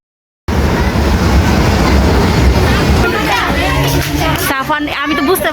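A western-style train ride at Golden Star Park amusement park in Narsingdi runs with a steady rumbling, clattering roll, close and loud, while crowd noise and voices carry over it, with squeaky rail sounds toward the end.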